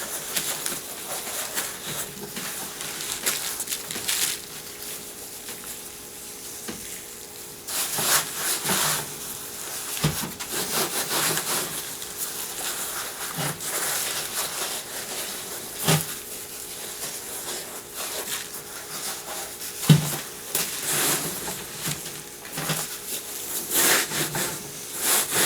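Coarse salt is rubbed by hand into a fleshed deer hide, producing close, gritty scraping and rubbing strokes in irregular bursts, with occasional soft knocks and pauses.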